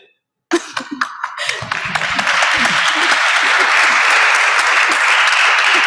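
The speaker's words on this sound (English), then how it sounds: "There's a smattering of applause there, but it's not wholehearted applause from the audience" Applause from a conference audience at a cryptography session, starting as sparse scattered claps and building into steady, moderate clapping that continues to the end, with a cough early on.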